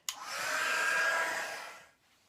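A hair dryer blows onto freshly whitewashed wood. It switches on with a click, runs as a steady loud whoosh for about two seconds, then winds down.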